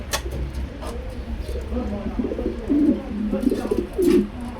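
Pigeons cooing close by at a bird-selling farm, a few throaty rolling coos rising near the end over a low background hum, with a little faint chatter.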